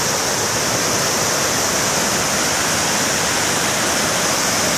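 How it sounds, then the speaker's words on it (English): Loud, steady rushing water pours continuously over a low-head dam in Dayton, Ohio, a dense unbroken roar close by with no other sounds. "Listen to that beautiful sound of rushing water."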